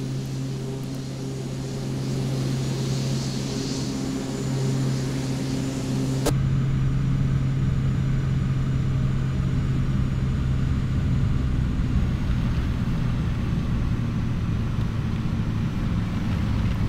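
A T-6A Texan II turboprop trainer landing in the flight simulator X-Plane 12 at Lake Louise, Alberta, with a steady engine drone and rumble that shifts in tone partway through and continues at an even level, with no voices.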